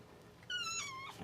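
A stuck kitten gives a single loud, high, drawn-out meow that rises and then falls, heard alone over a faint background of room noise.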